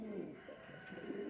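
A pigeon coos softly and low in a brief, faint burst during a pigeon fight, close but quiet, with no other sounds standing out.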